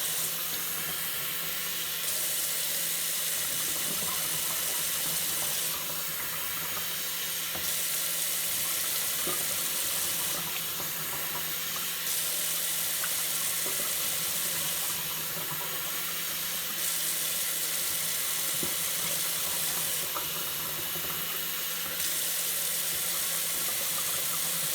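Hot water pours steadily into a container while mixing KillerOrange wild hog bait, a continuous hissing, splashing stream at close range, with periodic louder bursts as the pour surges, and no talking.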